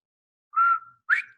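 A man whistles an imitation of a Bob White quail call: two clear, close whistled notes, the second rising sharply, with silence around them.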